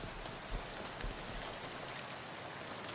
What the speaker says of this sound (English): This hobo seems wholly unperturbed by the rain.